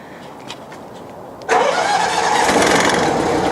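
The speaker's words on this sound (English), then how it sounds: "Turn on the second engine." A quiet hum runs for a moment, then the second engine of a twin-engine hot and cold water sewer jetter trailer abruptly starts and settles into a loud, steady roar that holds to the end.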